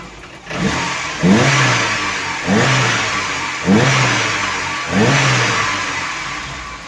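A VAZ 2108 car engine with torn-off engine mounts revs up in four sharp bursts, each rising then settling back, loud and close with no talking.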